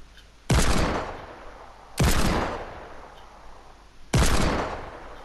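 Three heavy hand cannon shots in Fortnite Battle Royale, each a sharp loud blast with a long decaying tail, spaced about two seconds apart and heard alone.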